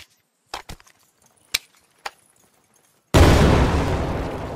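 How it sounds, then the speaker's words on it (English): A fire grenade tossed in the tactical shooter game Thunder Tier One, heard as a few sharp thuds and clatters as it lands, then a sudden loud roaring whoosh of fire that holds steady to the end. "I'm gonna toss a fire grenade."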